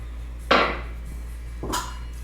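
A mortar and pestle grinds aniseed for jumble biscuits, with two separate hard ceramic knocks and scrapes about a second apart, close up over a low steady hum.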